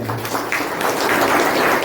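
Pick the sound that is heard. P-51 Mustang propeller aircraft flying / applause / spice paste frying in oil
applause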